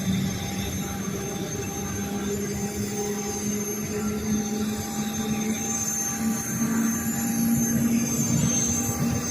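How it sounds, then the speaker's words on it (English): A couple of distant jet engines warm up near the Las Vegas Strip, a steady layered whine with sustained tones over a faint background rumble that swells slightly toward the end. "you can hear a couple of jets over there. Sounds like they're warming up"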